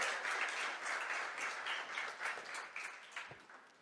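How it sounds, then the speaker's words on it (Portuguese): A church congregation applauds during a Portuguese-language praise and worship service, a moderately loud, continuous wash of clapping that gradually thins and turns more scattered toward the end. "Você pode aplaudir o Senhor?"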